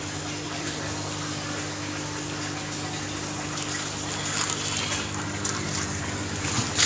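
Water is poured steadily onto potting soil in a pot being prepared for a grape plant, a continuous gushing wash over a low steady hum, growing slightly louder toward the end with no talking.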